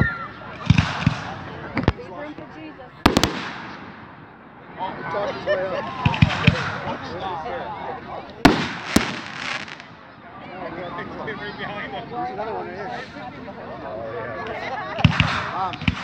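Fireworks burst at a Founder's Day celebration in Radisson in 2017, with sharp booming cracks at irregular intervals. The bangs sound over a constant wash of crowd noise and nearby people chatting.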